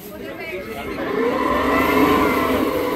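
A boat motor on Lake Pichola in Udaipur starts and rises to a steady close whirring drone that builds over a few seconds and holds, with a voice talking over it.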